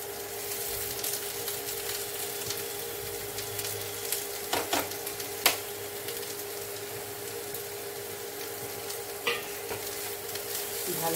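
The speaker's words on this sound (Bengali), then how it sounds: "ভালো করে একটু নেড়ে নেবো।" Vegetables for a Bengali niramish thor (banana stem) dalna with ginger sizzle steadily in a pan, a spoon stirring with occasional sharp scrapes and clinks, close and moderately quiet throughout.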